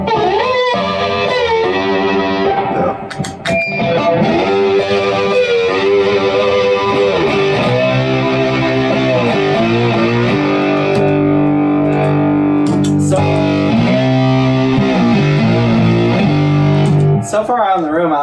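Electric guitar played through two stacked effects pedals, distorted and sustained, with chord strums and a lead line ringing loudly and steadily throughout, during a home recording session.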